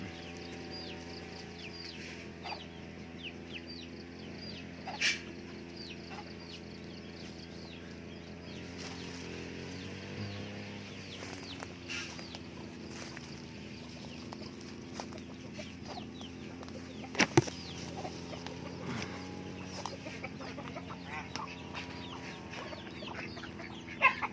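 Chickens cluck faintly and steadily in a rural yard, with a few sharper clucks or crows. A low, droning background hum runs beneath them, and no one speaks.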